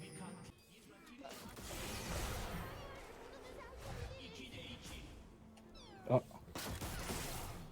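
Cats in a video game meow amid game noise and chatter, with one short, sharp meow standing out briefly near the end over a busy background.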